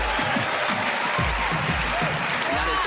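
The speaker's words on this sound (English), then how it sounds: "Let's give her a big round of applause." An audience applauds after a magic trick on a televised magic competition stage, a dense sustained burst of clapping that fills the whole moment, loud and close, with voices mixed into the crowd.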